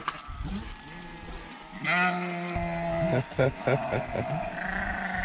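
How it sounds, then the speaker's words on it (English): A field of sheep on the Wales Coast Path, about 450 ewes with 650 lambs, bleating in overlapping calls, some near and loud, others farther off, while people talk close by. "in that field now there's about 450 ewes and about 650 lambs into them"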